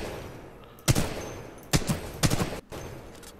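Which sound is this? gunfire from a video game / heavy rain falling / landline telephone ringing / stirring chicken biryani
gunfire from a video game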